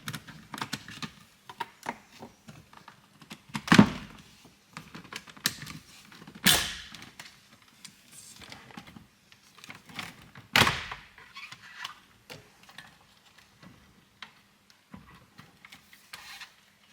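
Plastic trim tools prying at interior trim in a BMW F10, with sporadic clicks, snaps and scraping taps scattered across quiet gaps, a few sharper pops standing out close by.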